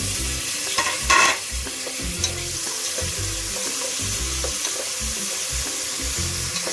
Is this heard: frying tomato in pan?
yes